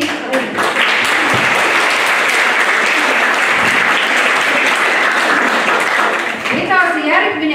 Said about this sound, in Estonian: aga tema aplausi ikka.